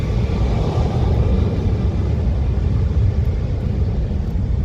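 Jet blast from an airliner on Skiathos runway 19 blowing across the beach, a loud, steady, dense roar and rumble sustained from start to finish without breaks or voices.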